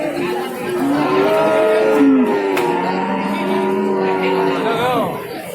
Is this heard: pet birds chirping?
no